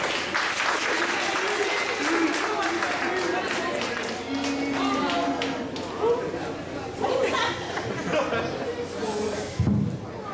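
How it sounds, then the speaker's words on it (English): Festival audience applauding, steady clapping mixed with crowd chatter and voices throughout, staying loud for the whole stretch. "Clap it up."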